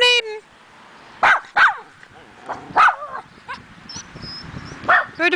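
Puppies bark and yip in several sharp bursts close by, some high and whiny, while someone talks between the barks outdoors on grass.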